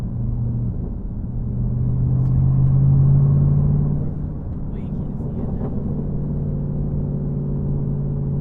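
The exhaust muffler of a Dodge 392 SRT rumbles with a low, steady drone while the car is driven, heard from inside the cabin. The drone swells briefly midway, and faint voices sit underneath.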